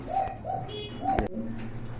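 Domestic pigeons, including Bombay pairs, coo in short repeated phrases at a pigeon sale, fairly close over a low steady background hum.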